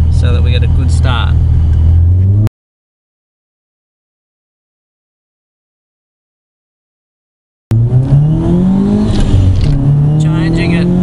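A supercharged Subaru Impreza pulls hard from 2,500 revs in first gear, its engine note rising loud and close with a rumbling drone, then cutting to about five seconds of silence before the revving climbs again.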